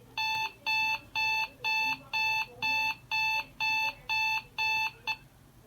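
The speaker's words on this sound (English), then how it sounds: "The alarm triggered state would just be flashy and play the alarm sound." A homemade DIY electronic alarm clock beeps in ten evenly spaced bursts, each a loud, bright, shrill tone pulsing steadily about twice per second.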